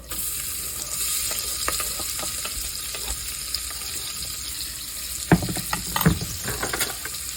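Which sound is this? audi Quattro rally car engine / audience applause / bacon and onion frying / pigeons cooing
bacon and onion frying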